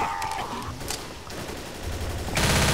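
Rapid automatic gunfire rattles continuously in the zombie shooter Left 4 Dead, dense and loud, swelling into a heavier burst at the end.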